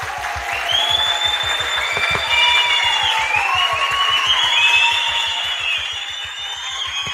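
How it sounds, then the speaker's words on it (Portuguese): An audience at an academic event's opening session claps steadily and fairly loudly, a dense even patter throughout, with faint overlapping voices and squeaky tones rising above it. "eu queria que ela levantasse para a gente aplaudir"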